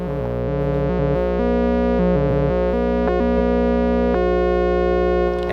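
A modular synth plays a subharmonic formant arpeggio routed through a Falistri slew limiter. The loud, continuous droning tone steps through shifting pitches in a smooth, gliding pattern, alone with no voices.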